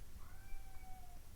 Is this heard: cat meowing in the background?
yes